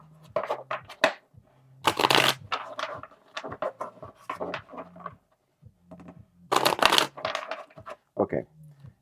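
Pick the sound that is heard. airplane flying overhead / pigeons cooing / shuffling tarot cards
shuffling tarot cards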